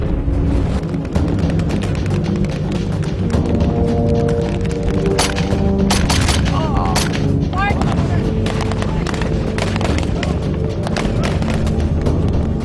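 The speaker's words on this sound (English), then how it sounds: "Still facing a barrage of German gunfire" Dense rattling German gunfire and booming thuds from a D-Day beach landing under a dramatic music bed, continuous and loud, with bursts of rapid shots throughout.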